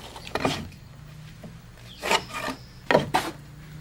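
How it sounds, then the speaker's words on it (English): A pencil or marker scrapes along wooden roof rafters against a rafter template cut with a 4-in-12 plumb cut, giving short scratchy strokes in three bursts, the last two in quick pairs, close and moderately loud. "and we're marking our rafters"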